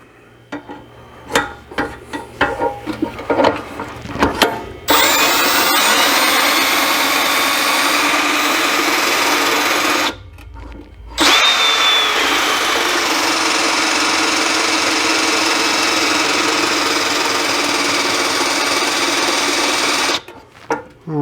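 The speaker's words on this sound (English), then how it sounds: "So I've got my Allen head on a drill this time, not an impact. Let's prime the pump." Cordless drill with an Allen bit spinning the oil pump to prime a Dodge 417 stroker engine, heard as a loud steady whir that runs for about five seconds, stops briefly, then runs steadily again for nearly ten seconds after some short bursts.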